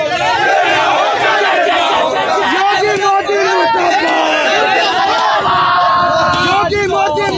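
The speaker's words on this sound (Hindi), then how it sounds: "मुर्देबाद के नारे लोग लगा रहे हो" A loud outdoor crowd chants and shouts slogans together in rhythmic bursts during a street protest with effigy burning, voices dense and continuous throughout.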